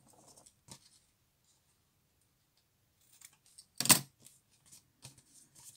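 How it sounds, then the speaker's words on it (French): Small scissors snip through excess paper and washi tape while a paper pouch is assembled, giving one crisp, close cut followed by a few light rustles and clicks in an otherwise quiet room. "Un petit ciseau, je coupe le surplus."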